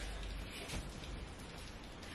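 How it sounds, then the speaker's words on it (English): Rain falling outside, a soft, steady hiss of drops heard faintly from indoors, even and continuous with no talking. "It's raining outside."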